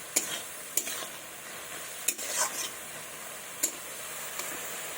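Bottle gourd cooking with cumin and ginger paste sizzles quietly in a pan, broken by a few sharp spatula clicks and taps against the pan, with no speech.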